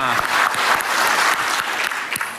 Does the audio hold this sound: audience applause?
yes